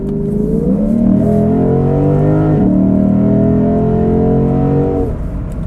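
A 2022 Lexus IS 500's 472-horsepower V8 engine revs loudly up close, climbing in pitch, briefly shifting, then pulling hard again before easing off.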